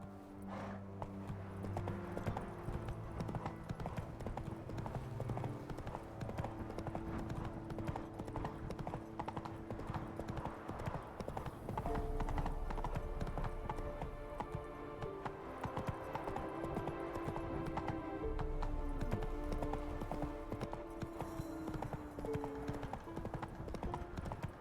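Horse hooves gallop in The Witcher 3 game, a fast, continuous clip-clop rhythm running loud and close over a game music score, with brief heavier thuds partway through.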